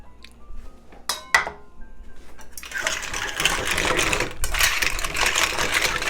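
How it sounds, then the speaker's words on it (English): Spaghetti with clams, porcini and cremini mushrooms is stirred in a pan of sauce. Close metallic clinks and scrapes come first, then a steady loud sizzle with wet stirring and further utensil taps against the pan, with no talking. "Mix this around just to get the sauce and the clams and everything squared away"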